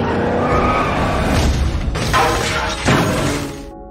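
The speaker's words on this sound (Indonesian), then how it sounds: "tiba-tiba Dom menyenggol mobil Hobbs hingga terguling ke sisi jalan" A car in a Fast and Furious film is knocked off the road by another car and overturns, with loud skidding and crunching impacts, a sharp burst near the middle and a second crash before the noise fades.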